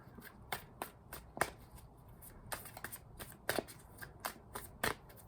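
A deck of tarot cards is shuffled close by, giving quick crisp riffles and flutters in irregular bursts with short pauses, quiet overall and with no talking.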